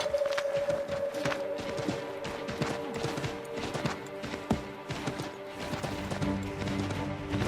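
Horse hooves clip-clop at a steady trot in Assassin's Creed 3, set in a forest, with a faint tonal hum and background clatter beneath, no talking.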